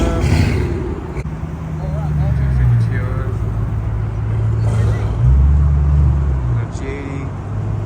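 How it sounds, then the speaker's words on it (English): A Genesis G80 pulling up at a car meet on the Angeles Crest Highway, its engine rumble rising and falling as it rolls in among other idling cars, with people chatting nearby. "Sick car pulling up."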